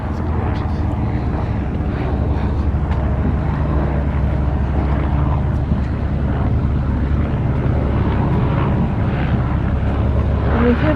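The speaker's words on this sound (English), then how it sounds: "That's a helicopter sound" A helicopter flies over the waterfront in Ketchikan, Alaska, producing a steady, droning low rumble that holds level throughout, mixed with wind buffeting on the microphone.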